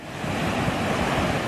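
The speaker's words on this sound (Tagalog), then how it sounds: "Malalaki na rin ang humahampas na alon sa Babuyan Claro." Loud, continuous roar of large waves crashing at Babuyan Claro, with wind buffeting the microphone, waves churning without a break.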